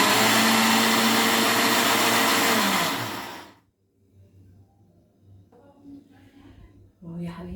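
An electric blender whirs loudly and steadily for about three seconds, mixing milk and dessert ingredients for a quick chocolate sweet, then shuts off, leaving quiet kitchen handling noises.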